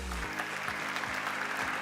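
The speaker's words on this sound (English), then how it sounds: "Oh, okay, I was expecting a lot less applause." Scattered audience applause in a speaking event, faint and steady for a couple of seconds, with a low hum beneath and no voices.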